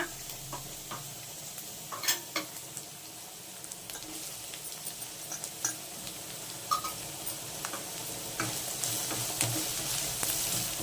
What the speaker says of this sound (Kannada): ನೋಡಿ ಇದು ಫ್ರೈ ಆಗ್ತಿದೆ ಈರುಳ್ಳಿ ಸ್ವಲ್ಪ ಫ್ರೈ ಆಗಲಿ ಚೆನ್ನಾಗಿ ಕ್ಯಾಪ್ಸಿಕಮ್ ಹಾಕ್ಕೊಳ್ಳೋಣ